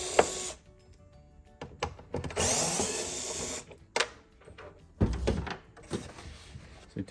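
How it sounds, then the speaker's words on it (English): Screws being removed from the gauge hood shroud of an Acura NC1 NSX, a series of close, irregular bursts of power-driver whirring separated by short pauses, with scattered clicks and rattles. "So you take all these screws out"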